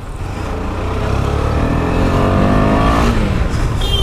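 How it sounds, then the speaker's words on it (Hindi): A motorbike fitted with its stock factory exhaust revs loudly and close, the engine note climbing steadily and holding high, with no speech over it. "अब ये कंपनी का एग्जॉस्ट है"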